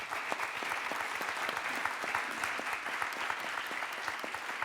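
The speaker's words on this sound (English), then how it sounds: "Could you give a round of applause, please?" Conference audience at a forum panel giving a round of applause, a dense, steady wash of many hands clapping at moderate distance, sustained evenly from start to finish with no speech over it.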